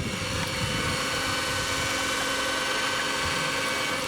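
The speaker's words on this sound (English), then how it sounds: "We get to test this motor here today, the one I just fixed. Oh, it sounds so smooth." A freshly repaired saw motor runs with a smooth, steady hum at moderate level, continuous and unchanging from start to finish, with no talking.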